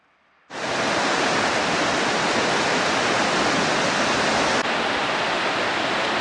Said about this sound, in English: that thing is flowing full blast with a spray that's reaching all the way down here